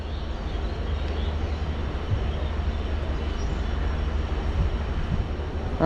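A train rumbles past at a crossing in a steady, heavy drone of wheels and carriages, continuous and fairly loud, with no voices.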